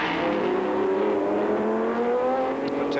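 Historic racing cars, a Matra Ford among them, pass on the Montlhéry circuit near Paris, with a loud engine howl whose pitch climbs steadily as a car accelerates by, plus faint further engine noise.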